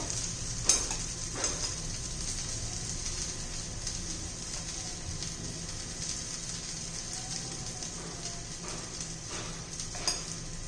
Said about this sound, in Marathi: चांगलं फ्राय करून घेऊया